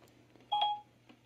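An iPhone places a call through Siri, giving one short two-tone dial beep, clear and fairly quiet against a low steady hum, with no talking.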